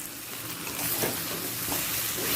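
Soaked Gobindobhog rice is stirred in a pan with fish head, potato, onion, ginger and garlic, giving a steady sizzling, frying hiss with soft scraping from the stirring. Close and continuous, with no voices.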